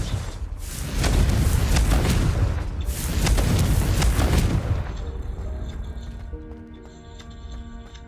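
Booming blasts from the Confringo spell in Hogwarts Legacy, two heavy rumbling explosions in a row that fade into quieter tonal game effects.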